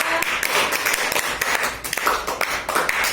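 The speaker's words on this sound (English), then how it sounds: "Clap for Rudra" A small group claps for a child named Rudra during a fruit-recognition game, a quick, uneven patter of handclaps close by over a couple of seconds.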